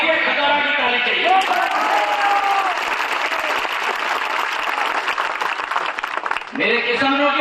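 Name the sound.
crowd applause from Khataura at a rally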